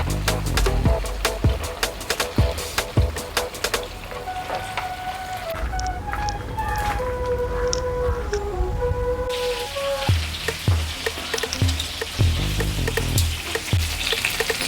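Chicken pieces frying in a pan for a chicken nirvana dish, with a dense crackling, rain-like sizzle throughout, some low clunks of the pan and a brief tonal whine in the middle.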